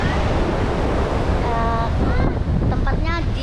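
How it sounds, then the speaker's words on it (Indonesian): Surf rolls in steadily at Lobu beach near Bangkalan, a continuous loud wash of waves with wind buffeting the microphone throughout. "kita sekarang ada di pantai kedua"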